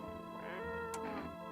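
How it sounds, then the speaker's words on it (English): A cat meows in a video game, a quiet tonal call with a short high chirp near the end, heard alone with no talking. "Pet the cat. We're trying to pet the cat."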